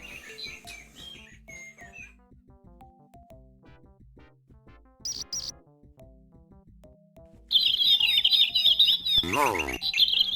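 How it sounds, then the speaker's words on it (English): Birds in the video game Igor: Objective Uikokahonia chirp in quick, high tweets, at first sparse and light over game music, then loud and dense in the final seconds. "Is there enough bird noises now?"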